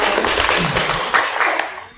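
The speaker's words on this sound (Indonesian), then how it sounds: "Tepuk tangan dong" Audience applause welcoming two teachers from SMKN 1 Turen onto an Indonesian school podcast, a loud, dense wash of clapping that holds steady and then fades away at the end.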